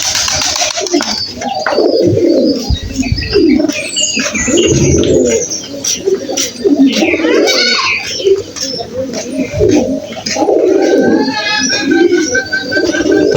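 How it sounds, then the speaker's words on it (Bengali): Sirazi pigeons pecking at broken rice coo repeatedly up close in low throaty bursts, with occasional chirps and faint wing rustles between the calls. "এই সিরাজি কবুতর, এখান থেকে খাও।"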